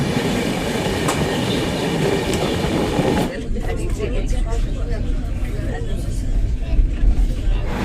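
A passenger train from Kolkata rolls toward Bhubaneswar station with a loud, steady rumble and wheel clatter that shifts in tone partway through, while people talk over it.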